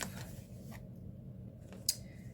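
Scissors trim the edge of a new Hobonichi Cousin Avec journal cover, giving soft, close paper-cutting snips followed by one brief sharper snip near the end, with no talk.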